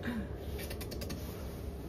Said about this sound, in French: Quand c'est temps de manger, on tire le tiroir.